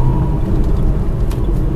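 Manual-transmission car engine revving up while driving on a road during a driving lesson, a brief steady low rumble with road noise, heard alone.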